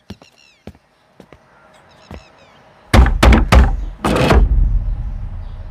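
Heavy knocks and thuds pound on a door in a film trailer, several loud blows in a quick cluster after quieter scattered sounds, with a rumbling low tail.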